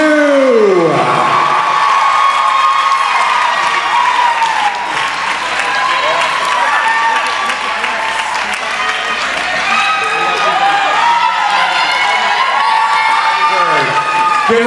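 Loud crowd applause with cheering and whoops for national dance competition winners in a large hall, sustained for the full stretch with shouting voices mixed in.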